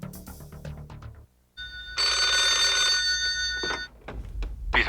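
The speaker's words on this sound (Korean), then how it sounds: "청와대로부터 전화가 걸려왔습니다" A telephone bell rings in a continuous, loud burst for about two seconds, set in a 1995 Korean historical drama scene about the October 26 presidential incident, with a short pause and low room sounds before and after.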